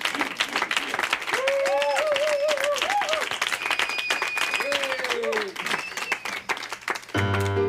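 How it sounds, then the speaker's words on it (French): A café audience claps steadily for a musician at a first show, sustained applause throughout with a singing or whooping voice rising above it; the clapping breaks off abruptly near the end as a musical tone begins. "Je vous demande de l'applaudir très, très fort"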